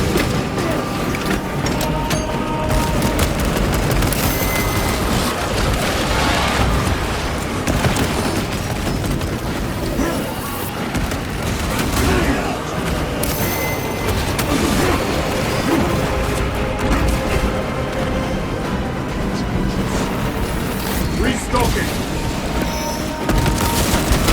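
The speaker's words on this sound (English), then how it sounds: "Frag grenade out!" Frag grenade blast amid continuous combat in Warhammer 40K Space Marine 2, heavy booms and crashes layered over relentless gunfire and clanking, loud and dense throughout.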